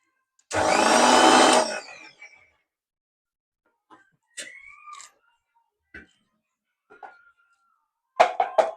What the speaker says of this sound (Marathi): आता हे सर्व साहित्य मिक्सर मध्ये बारीक पेस्ट करून घेते